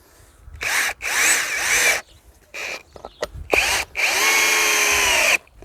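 A GTM DSI18/60BL brushless impact drill boring a 200 mm hole into earth, with loud close whirring bursts that start and stop several times, rising and falling in pitch, and no talk.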